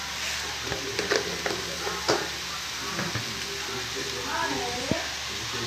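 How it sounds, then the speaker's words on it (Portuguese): Rice and carrots sautéing in a pan, a soft sizzle with a few spoon taps and stirring scrapes, quiet under someone talking. "Deixa refogar tudo."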